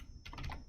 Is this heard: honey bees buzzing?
no